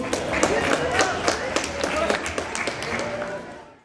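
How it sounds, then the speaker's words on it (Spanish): A small crowd applauds the first-place winner of a diorama contest at a toy car gathering, uneven claps heard close up while voices carry on underneath. "Un aplauso grande, por favor."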